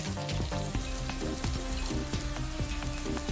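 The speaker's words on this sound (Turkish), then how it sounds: "Kavuruyorum pirinçlerle." Rice and lentils sautéing in a pan for a vegetable pilaf: a dense, continuous crackling sizzle, loud and close, with light stirring scrapes mixed in and no speech.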